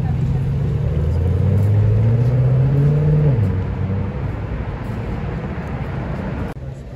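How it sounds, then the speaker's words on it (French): A supercar on a Paris street accelerates hard, its engine note climbing steadily for about three seconds before dropping back to a lower rumble amid steady traffic noise. "Petite accélération ou pas?"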